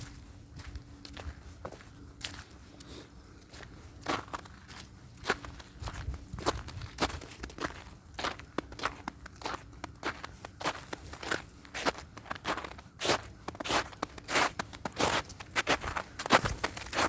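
Crunchy footsteps on a hiking trail loop in Northern Virginia, a steady walking rhythm of quiet, close crackling steps that grow slightly louder over time.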